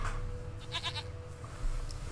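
A goat in The Witcher 3 lets out a short, wavering bleat midway through, over a low hum of ambient game sound.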